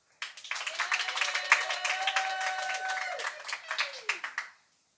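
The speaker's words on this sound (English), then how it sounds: "I think you should clap for her again." Audience clapping at a cafe launch in Lamu, Kenya: a burst of close, lively hand claps that swells and then tapers off, with a voice calling out over it.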